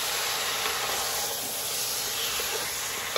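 Chicken wings hit a hot pan for tinola, chicken soup, and give off a steady, even sizzling hiss that carries through the whole stretch with no talking.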